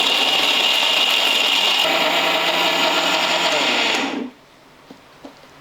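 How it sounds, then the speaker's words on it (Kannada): A kitchen mixer grinder whirs loudly and steadily as it grinds roasted dry coconut masala in its jar, then cuts off abruptly near the end, leaving a quiet room with faint clicks. "ಅದೇ ಮಿಕ್ಸಿ ಜಾರಲ್ಲಿ ಹಾಕ್ಕೊಳಕತ್ತೀನಿ ರೀ, 2 ಸಲ ರುಬ್ಕೋತೀನಿ ರೀ."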